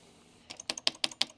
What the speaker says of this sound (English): It's almost like this keyboard is notorious for being shit for a reason.